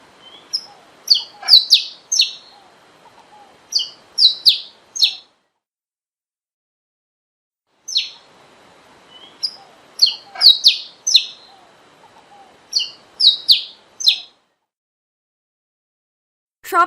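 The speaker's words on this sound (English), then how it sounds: "Saffron finch." Saffron finch singing clear, close phrases of sharp chirps and trills in two bursts separated by a pause, with a brief call at the end.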